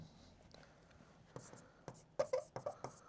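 Handwritten notes going down during a biology lesson: pen or chalk strokes scratch softly at first, then grow into a quicker run of distinct taps and scrapes near the end, with no speech.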